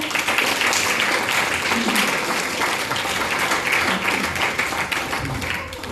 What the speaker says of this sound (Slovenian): tako da še en aplavz za Andrejo